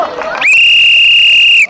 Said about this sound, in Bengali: আপনারা অপেক্ষা আছেন রেফারি কখন বাসি মারবে